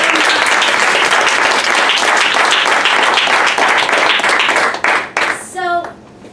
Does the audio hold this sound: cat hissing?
no